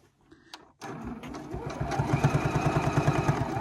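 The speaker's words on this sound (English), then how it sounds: "We're just going to do a standard straight stitch" A Juki HZL G220 sewing machine sewing a straight stitch on calico starts after a few small clicks, then runs with a quiet, rapid, even mechanical pulsing that builds slightly and stays close and steady.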